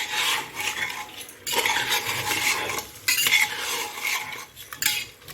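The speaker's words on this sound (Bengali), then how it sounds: "কাঁচা লঙ্কা আর অল্প ধনে পাতা, টমেটো কুচি, এগুলো এখন দিয়ে দেবো। দিয়ে আবার ভালো করে নেড়ে চেড়ে" Mutton pulao with green chillies and chopped tomato being stirred in a pot, a spoon scraping and clinking against the metal in steady bursts, fairly close, with no talk.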